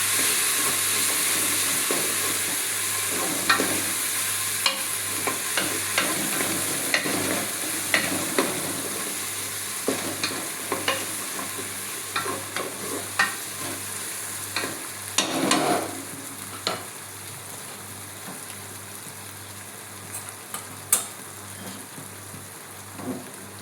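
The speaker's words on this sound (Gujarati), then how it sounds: "આ લસણ, આદુ અને મરચાંની ખાંડેલા છે એ નાખે, અને એને થોડી વાર સોતે કરી લઈએ" Crushed garlic, ginger and chili sautéing in a pan: a hissing sizzle that holds steady throughout, with spatula scrapes and taps growing sharper and more frequent toward the end, near and without voices.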